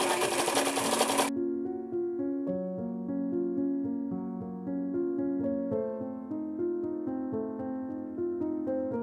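A sewing machine runs steadily up close, stitching the bottom hem of an Afghani palazzo with a continuous whirring hum, preceded by a brief burst of broadband noise.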